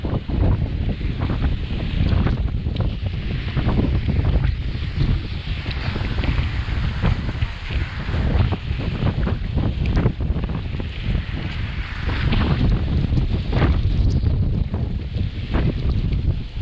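Strong wind roars and buffets the microphone without letup, with a churning, watery rush like a boat moving through rough sea, on an island during the northeast monsoon.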